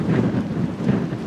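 Strong wind in the Patagonian wilderness of Torres del Paine roars steadily and loudly against the microphone, a continuous low rumbling buffet with no voices.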